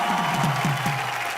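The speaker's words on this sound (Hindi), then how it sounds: "जोरदार तालियां" A television studio audience breaks into loud applause after a live song performance, a brief dense burst of clapping with some cheering mixed in.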